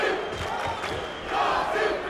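A kickboxing crowd at a welterweight title fight roars and chants in support of a fighter, a loud, dense collective shout that surges near the end of the short stretch.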